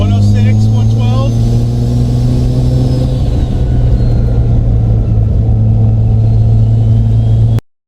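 A Mazda RX-7 FC3S rotary engine with a custom exhaust and Vibrant muffler idles loudly with a deep, steady exhaust drone and a brief rev near the start, close up, then cuts off suddenly.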